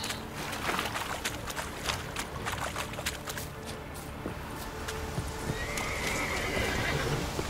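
Roach, the horse in the video game The Witcher 3, whinnies while hooves clip-clop steadily over a constant wash of background game ambience, with no talking.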